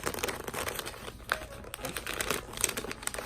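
Wrapping paper for a present being creased and folded by hand, close crinkling and rustling in quick bursts, fairly quiet, with no talk.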